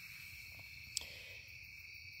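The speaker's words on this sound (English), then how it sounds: "Listen to the crickets and the frogs." Crickets chirping outdoors at night at a campsite, a steady high insect trill continuing throughout, faint and distant with one brief sharp click partway through.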